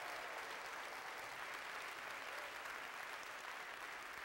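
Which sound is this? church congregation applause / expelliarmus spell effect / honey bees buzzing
church congregation applause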